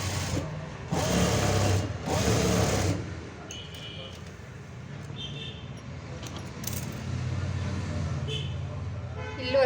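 A sewing machine edge-stitches a plain blouse in two short loud runs near the start, followed by quieter handling while someone talks.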